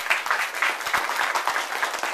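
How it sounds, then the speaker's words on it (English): A breakfast-meeting audience claps steadily, a dense patter of many hands at even loudness for a couple of seconds, with no voices. "So if you want to clap for them, that'd be fine."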